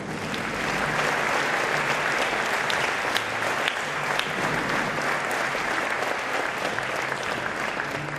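An audience at a music school orchestra concert in Brežice applauds, a dense, steady clapping that fills the hall for about eight seconds.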